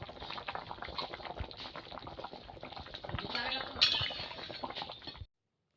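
A thin fish curry broth of small fish with papaya and potato bubbles in a pot, giving a soft, steady simmering fizz with a few light clinks of utensils, then cuts off.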